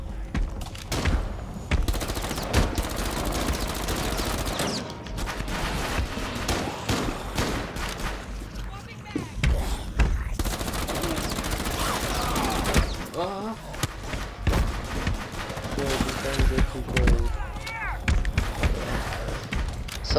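Gunfire in Rainbow Six Siege, rapid shots and thuds scattered through a busy firefight, with players talking over much of it.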